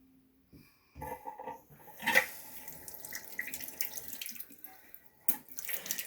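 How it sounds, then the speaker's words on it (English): Water runs from a partly opened supply valve during a toilet replacement, starting after a quiet moment and flowing in a soft, uneven hiss with brief splashes and clinks nearby. "See, I got my water running."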